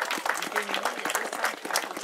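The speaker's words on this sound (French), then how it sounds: "tout le monde est réuni pour applaudir les féminines" Crowd applause for the women riders at a cyclo-cross race in St Thurial, scattered clapping with a voice speaking over it outdoors.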